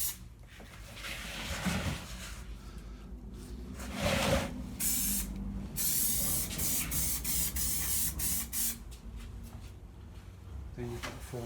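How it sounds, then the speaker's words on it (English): Glue being sprayed onto an upholstery stool before the foam goes on, heard as bursts of hissing spray under a steady indoor background, with a stronger burst near the middle. "Put a bit of glue onto where the foam's going to go over to, makes it a little bit better to stick."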